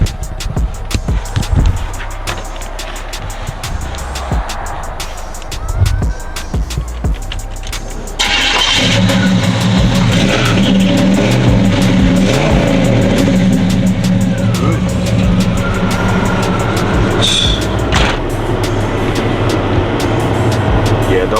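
A 1984 Chevy Caprice engine cranks and catches, then settles into a loud, rumbling idle that continues steadily, with occasional revs and background noise.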